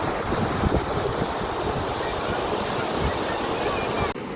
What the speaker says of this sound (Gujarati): ધોધ પાસે ઊભા રહીને તેનો અવાજ સાંભળવાનો એક અલગ જ અનુભવ છે.